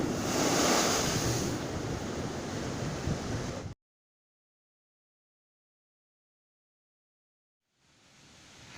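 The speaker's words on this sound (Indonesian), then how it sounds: "Kondisi air besar guys, ombak angin cukup besar." Rough ocean surf and strong wind on a beach roar as loud, continuous broadband noise, cut to silence partway through, with the wind and wave rush fading back in at the end.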